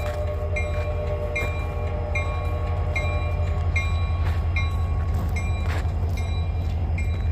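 A freight train rolls steadily past in Abbeville, a loud, continuous rumble of railcars with rhythmic wheel clicks and faint squeals running throughout.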